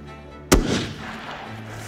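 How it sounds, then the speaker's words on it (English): A single loud rifle shot while hunting Dall sheep in the far north, a sharp crack followed by a long rolling echo that fades across open mountain terrain. "Shoot again. Whenever you're ready."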